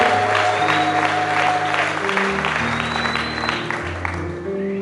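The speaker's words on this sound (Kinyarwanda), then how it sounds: "Amashyi menshi kuri Kristo muzima w'u Rwanda uhoraho" Sustained applause from a church congregation in a Rwandan refuge city, praising Christ; dense steady clapping with crowd noise and tonal organ or music lines running underneath throughout.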